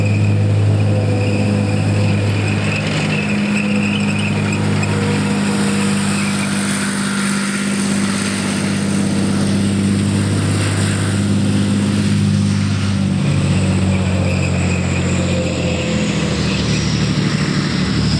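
M60 Patton tank driving, a steady loud engine drone with a low rumble and some track noise, continuous and unbroken throughout.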